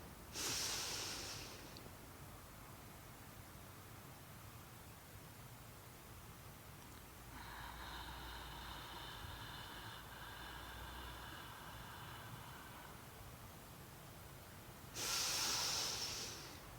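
Deep yogic breathing in a full yogic breath pranayama exercise: two loud breathy rushes at the start and end frame a long, softer drawn-out breath in the middle, with quiet hiss in between.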